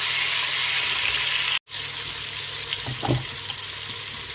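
Onion and a stew base for Nigerian spinach stew fry in a pot with a steady broad hiss, cut by a brief gap and followed by a light stir.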